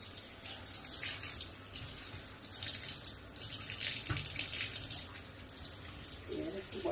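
Tap water runs steadily into a sink as scallion and thyme are rinsed beneath it, a close continuous splashing hiss with faint handling.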